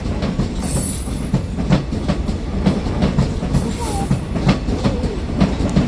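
A passenger train runs past a station platform on an evening platform trip, its steady rumble mixed with rhythmic clickety-clack of wheels on rail joints and a few brief high wheel squeals, loud and close throughout.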